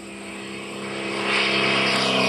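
A 200-knot microlight plane flies by with a loud propeller-engine drone that swells as it closes in and stays strong and near to the end, with no voices.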